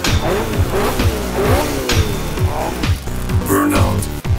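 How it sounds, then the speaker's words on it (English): A 1938 Chevy Deluxe does a burnout, its engine revving hard and rising and falling in pitch while the tires squeal loudly and continuously, close by, with no talk. "Burnout."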